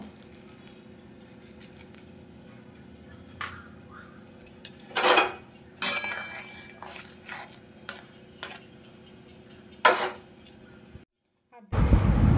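A spoon stirs salt, turmeric, green chili and sugar together in a bowl, with a series of sharp clinks and scrapes against the dish, close and intermittent, no talk.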